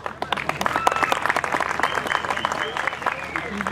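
A crowd at a municipal sports tournament awards and concert event in Balya breaks into lively applause with distinct claps, building and staying steady while a voice speaks over it.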